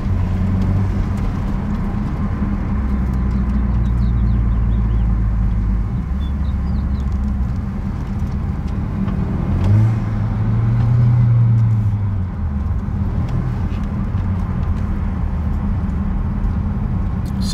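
A 10th generation Honda Accord with an aftermarket turbo tune accelerates with wheel spin, its engine rumbling steadily and swelling in a low drone with a brief surge near the middle, no voices.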